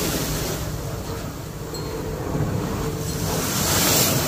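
Strong waves break on Boracay beach in a continuous, close, roaring wash of surf that swells louder toward the end, with no voices.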